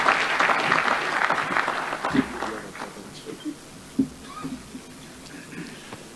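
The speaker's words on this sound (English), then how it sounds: "Let's give him a round of applause" A short burst of audience applause for the Speaker of Kenya's National Assembly fades within about two seconds, leaving a few scattered late claps against a quiet hall.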